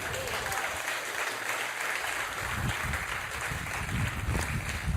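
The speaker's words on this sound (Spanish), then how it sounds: "Denle un aplauso al Señor." A church congregation applauds during a Spanish-language worship service, a dense, sustained round of clapping from many hands that runs steadily for several seconds.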